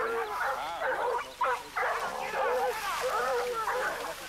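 A pack of hunting dogs chasing a jaguar through dense undergrowth, barking and yelping continuously in overlapping, excited calls, loud and near, with a voice talking over them.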